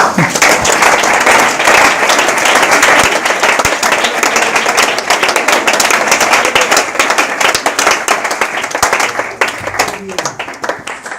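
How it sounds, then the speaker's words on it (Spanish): A loud, continuous burst of congregational clapping fills a church service, crisp hand claps blending into a steady wash for over ten seconds, with faint voices mixed in. "¿Puedes darle un aplauso a Dios?"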